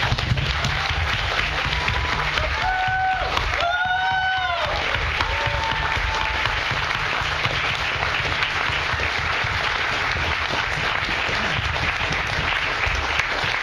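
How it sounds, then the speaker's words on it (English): Audience applause at a talk, sustained crowd clapping that runs steadily for the whole stretch with a brief tonal interruption early on. "let's give them a round of applause"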